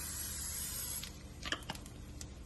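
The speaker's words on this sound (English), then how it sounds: "I'm putting a little bit more spray." Cooking oil spray on a pan while making besan cheela gram flour pancakes: a steady close hiss of spray for about a second, then fading into soft sizzle with a few small crackles and pops.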